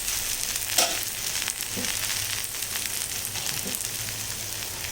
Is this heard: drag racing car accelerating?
no